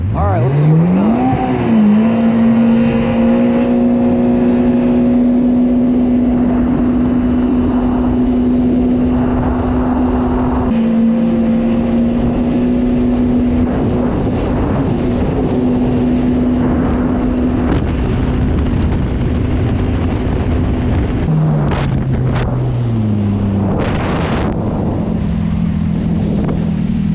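A GPR-SHO boat with a swapped monster engine and a glued-in pump shoe makes a speed run, its loud steady engine drone climbing in pitch, holding high, then dropping near the end amid wind noise.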